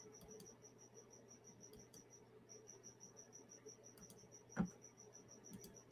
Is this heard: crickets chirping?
yes